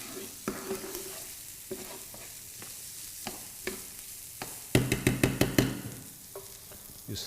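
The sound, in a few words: paella rice frying and being stirred in the pan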